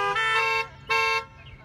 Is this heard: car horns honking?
yes